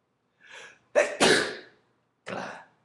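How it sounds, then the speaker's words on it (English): Three sharp sneezes from one person, a faint first burst, then a loud explosive pair in quick succession, and a final sneeze after a short pause, close and clear with no talk. "That was 5 sneezes in about a minute and a half."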